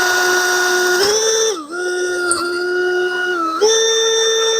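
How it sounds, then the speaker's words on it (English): A power drill bores a 1/2 inch hole through sheet-metal tin into the transmission area of a Factory Five Roadster, a loud, close, steady whine whose pitch dips briefly twice as the bit bites under load. "we're going to drill a 1/2 inch hole through the tin going into the transmission area"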